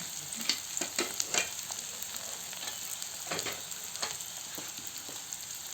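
Onions frying in a pan for a ghugni dish give a soft, steady sizzle broken by repeated clicks and scrapes of stirring, fairly quiet and close.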